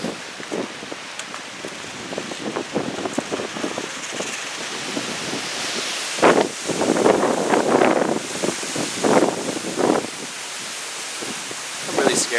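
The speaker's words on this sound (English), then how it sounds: "Someone's Cowboys flag flying strong in this wind." Strong wind gusting outdoors in a residential neighborhood, roaring and rustling through trees with a flag flapping, rising into louder buffeting gusts partway through.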